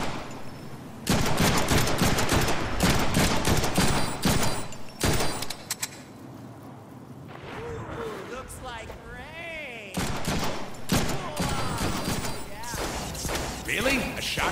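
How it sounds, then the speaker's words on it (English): Dense, loud gunfire from the Deadpool video game, with bursts of rapid shots and heavy blasts running almost continuously, a short lull in the middle, and game voices talking over the shooting. "Really? A shotgun?"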